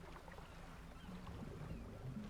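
A small fishing boat's engine from the video game DREDGE drones at a low, steady pitch, faint and continuous, with soft water lapping around it and no talk.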